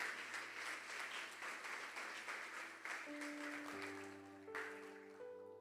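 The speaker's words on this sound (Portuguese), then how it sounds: "aplauda o Senhor mais uma vez" Church congregation applauding during a worship service, a broad wash of clapping that fades after a few seconds as sustained keyboard or organ tones rise and hold underneath.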